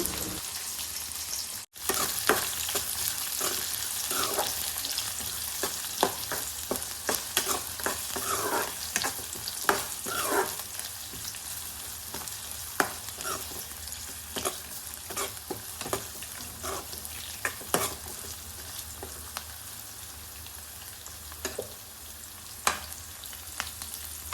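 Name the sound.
onions frying in a pan with dried red chillies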